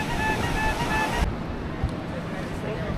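Sea waves wash onto Malpe beach in Udupi in a continuous, close, rushing surf mixed with wind buffeting the microphone. The roar is loud at first and settles slightly softer.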